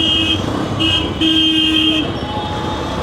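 Crowded road traffic rumbles close by, with several short car horn toots sounding over the steady engine hum.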